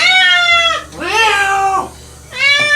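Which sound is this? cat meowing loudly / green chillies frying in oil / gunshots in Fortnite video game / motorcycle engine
cat meowing loudly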